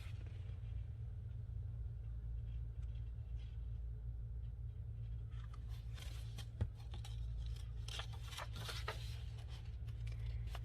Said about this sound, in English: The surprise turned out to be a stampeding herd of wildebeests, with the hyenas urging the herd on. The earth trembled.